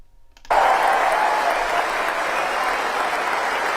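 Sustained applause from a conference audience after a Keir Starmer speech, starting abruptly after a quiet moment and continuing as a loud, steady wash of clapping.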